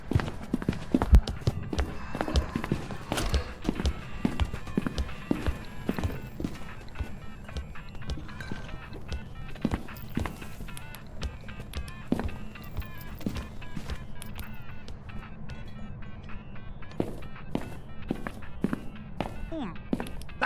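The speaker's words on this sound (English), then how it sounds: "I lost his footsteps there or what happened" Ghost footsteps in the horror game Phasmophobia, a steady run of thudding steps at a moderate pace, moving closer and then fading, heard alone among low rumbling room noise with occasional sharper knocks.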